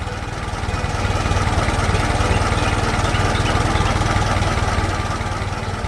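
A small cultivator engine in an animated farm scene drones steadily and loudly throughout, a dense continuous chugging hum with no break.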